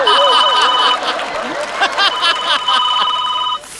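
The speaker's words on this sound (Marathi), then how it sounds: "फोनची रिंग." A telephone rings in repeated bursts of a bright electronic tone, while voices chatter and chuckle over it nearby.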